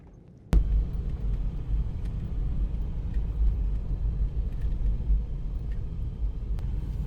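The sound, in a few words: 4x4 jeep driving slowly on a snowy mountain road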